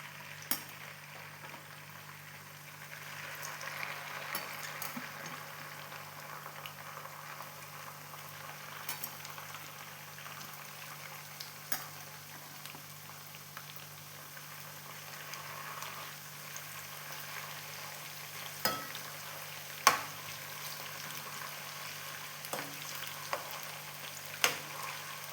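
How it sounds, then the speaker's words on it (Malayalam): Tapioca pieces fry in hot coconut oil with a soft, continuous sizzle and bubbling that lasts the whole stretch, broken by occasional sharp clinks and pops. "നമുക്ക് വെളിച്ചെണ്ണ കാഞ്ഞോ എന്നുള്ളതിനൊന്ന് ഇട്ട് നോക്കിയാലോ. ആവുന്നുണ്ട്. അപ്പം ഞാൻ ഇടുന്നുണ്ട് ഗൈസ്."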